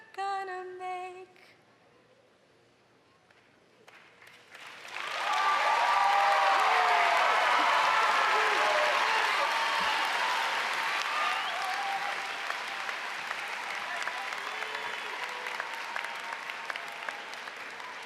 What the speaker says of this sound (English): Let's give another round of applause for all of our performers, please.